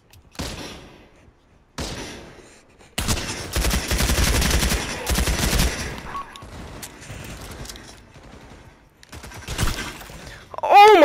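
Gunfire and an explosion in the World War 2 mode of the VR shooter Pavlov: sharp shots, then a dense, loud burst of blasts and crashing debris lasting a couple of seconds, with quieter rumble and movement afterward.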